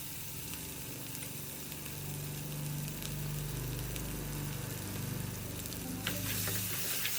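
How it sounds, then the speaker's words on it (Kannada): Tomatoes fry in a hot pan with a steady, close sizzle and scattered crackling spatters, running alone without talk and briefly intensifying near the end. "ಆ ಟೊಮ್ಯಾಟೊ ಹಾಕಿದಾಗ ಸಿಡಿಯೋದು ಜಾಸ್ತಿ"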